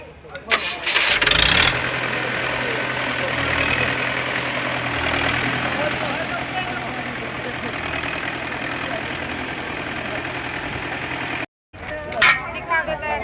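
A tractor engine cranks and catches, then settles into a steady, close, chugging idle, with people talking over it and a brief cut near the end.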